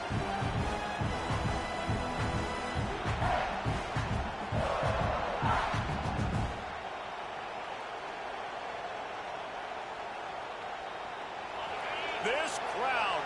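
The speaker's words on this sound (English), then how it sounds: "This crowd, full throat, spreading the eardrums" A big college football stadium crowd at Alabama versus South Carolina roars at full volume with rhythmic pulsing bursts, then abruptly drops to a quieter, distant murmur before swelling slightly again.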